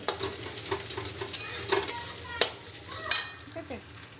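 An egg being stirred in a hot frying pan, the spatula scraping in short irregular strokes over a steady, close sizzle of frying, with no voices.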